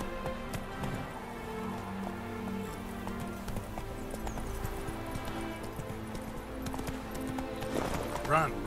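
Horse Roach galloping in a video game, rhythmic hoofbeats clopping over a rainy ambient background, with a voice briefly speaking and a faint whinny-like sound near the end.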